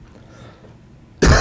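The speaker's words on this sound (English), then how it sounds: "So I'll quit coughing" A single sharp, loud cough bursts out close to the microphone after a quiet, low room hush.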